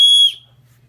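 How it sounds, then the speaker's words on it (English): A single sharp, high whistle blast from a fold-out whistle on a Swiss Army knife, loud and close, cutting off quickly into near silence. "you've got a whistle that folds out, a more traditional whistle than what you have there"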